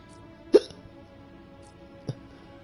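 Two short, sharp hiccups sound about one and a half seconds apart. The first is louder and the second softer, each alone over a quiet room background.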